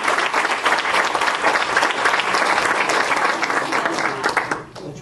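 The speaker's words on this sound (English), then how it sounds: "we're going to give her a round of applause" At a school board meeting, the room breaks into a dense, steady round of applause from the audience, continuous clapping that tapers slightly at the very end.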